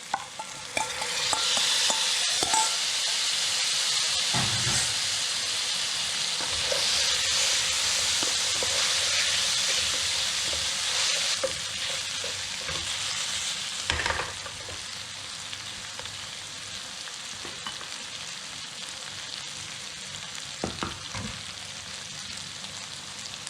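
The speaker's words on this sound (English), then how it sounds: "Don't want to cook these peppers too much. I'm going to add the sausage back in." Sausage and peppers sizzle steadily in a frying pan while being stirred, a continuous close hiss with occasional scraping clinks, loud early and easing slightly later.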